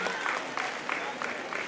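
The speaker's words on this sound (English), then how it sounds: "A big round of applause for her" Audience applause at a dental college graduation ceremony in Bagalkot: a steady, moderately loud wash of clapping from a seated crowd that fills the short moment evenly without fading.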